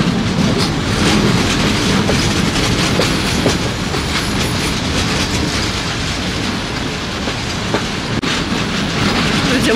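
A historic train runs along the disused Police–Trzebież railway line, its wheels rolling with a steady clickety-clack over the track. The loud, close rumble continues without a break.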